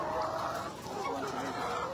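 Chickens cluck continuously in a dense, busy flock of about 2,000 on an egg farm, with a steady murmur of activity and some voices mixed in the background.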